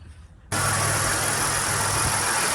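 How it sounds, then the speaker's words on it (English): A 2022 Acura MDX SH-AWD with its 3.5L engine starts and then idles steadily, a loud continuous hum and rush close by after a quiet opening moment. "Now with the car running, we quickly go under and check for any leaks on the drain plug here"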